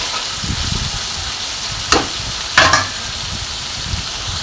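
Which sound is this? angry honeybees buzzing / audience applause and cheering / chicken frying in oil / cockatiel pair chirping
chicken frying in oil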